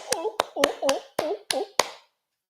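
Seven sharp, evenly spaced hand claps done as a mock seal clap, each a crisp slap followed by a short nasal vocal honk imitating a seal's bark, close and loud, ending in silence.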